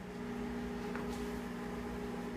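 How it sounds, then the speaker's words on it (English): A microwave oven hums steadily as it starts heating a burrito, a constant low drone with a faint click partway through and no talking. "I will move over to the microwave."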